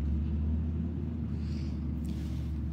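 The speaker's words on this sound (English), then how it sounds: "There's a garbage truck going by and it's loud" A garbage truck passes outside, heard as a steady, muffled low rumble that holds through the whole moment at moderate loudness.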